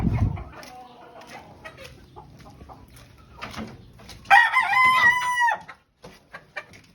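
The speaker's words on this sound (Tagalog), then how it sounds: "magdadakit tayo ng wild chicken ngayon" A wild chicken, a young future hen, clucks and crows in short bursts, with one loud, sustained call standing out near the end over quiet background.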